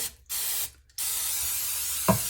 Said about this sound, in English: I'm going to spray this casserole dish with some non-stick cooking spray